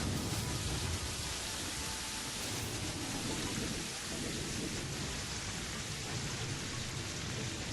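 Steady rain pours down with deep rumbling thunder in the video game Terraria, a dense continuous downpour that holds loud and even throughout with no talking.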